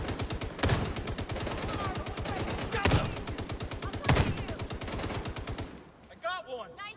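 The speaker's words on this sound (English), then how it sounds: "Let's see this working in-game as a shootout between some civilians and the True Sons militia" Rapid automatic gunfire rattles through a shootout between civilians and True Sons militia in the video game The Division 2: dense, loud, continuous bursts with a few heavier shots, then the firing stops and a voice speaks.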